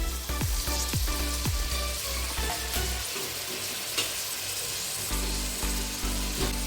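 Steady oily sizzling as masala fries in a pan with coriander and mint for mushroom biryani, with scraping stirs and soft clinks close by and no talking.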